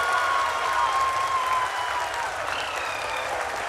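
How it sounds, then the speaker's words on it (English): A crowd applauds steadily and energetically at the Chandrayaan-3 lunar soft landing, the clapping dense and continuous, with a faint whistle and murmurs mixed in. "People are applauding."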